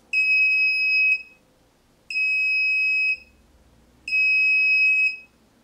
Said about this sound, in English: the buzzer is now wired between the positive rail and the output pin of the 6522